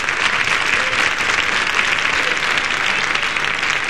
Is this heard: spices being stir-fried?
no